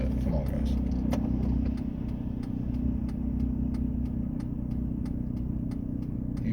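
An old diesel car engine runs steadily with a deep, continuous low rumble and faint ticking, heard close and alone throughout.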